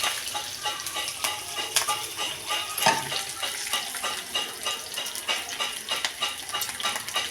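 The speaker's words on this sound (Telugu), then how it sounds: "పచ్చిమిర్చి కూడా వేసుకొని బాగా వేయించుకోవాలి." Green chilies fry in a pan, a steady close sizzle with occasional stirring scrapes and clinks throughout.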